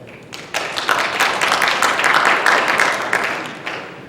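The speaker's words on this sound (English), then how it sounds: "Please keep your applause towards the end." Audience applause at a candidate forum, a dense burst of many hands clapping that starts abruptly, holds steady and loud, then thins out toward the end.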